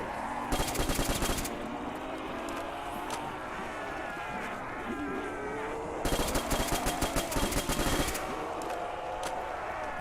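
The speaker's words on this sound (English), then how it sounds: "Notice I'm shooting at their bodies and legs as I'm doing that." Video game gunfire in two long rapid bursts, loud and close, separated by quieter stretches of background game sound.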